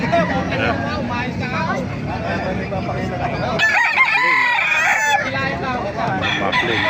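Roosters crow repeatedly at a busy chicken market in Baliuag, with a loud crow rising over steady crowd babble and murmured speech throughout.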